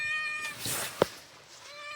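A kitten meows outdoors near a property by a lake in Montenegro, giving a few thin, high cries close to the microphone, with one short sharp sound in the middle and no talking.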